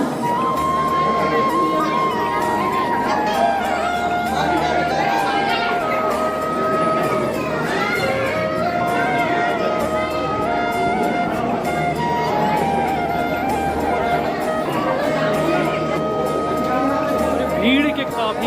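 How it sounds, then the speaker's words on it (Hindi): Inside a crowded tribal museum in Naya Raipur, steady crowd chatter and voices fill the space, with a dense, constant hubbub of many people talking nearby. "काफी ज़्यादा भीड़ यहाँ।"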